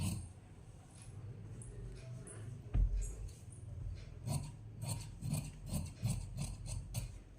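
Scissors cutting along marked lines in blouse fabric, close and soft, with a series of short rasping snips at an uneven rhythm after a quiet stretch and one sharper knock.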